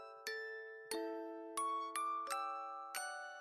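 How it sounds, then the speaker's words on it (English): A silver bell chimes six times in an uneven rhythm, each bright metallic strike ringing out and slowly decaying into the next, close and clear with no voices. "Bella's silver bell chimed once more, announcing the return of joy to the valley"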